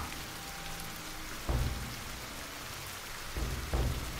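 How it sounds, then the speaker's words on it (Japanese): A steady hiss of heavy rain serves as a sound effect in a reading of Akutagawa's Rashomon, with a few low thumps of thunder breaking through the downpour. "ぼんやり雨の降るのを眺めていた"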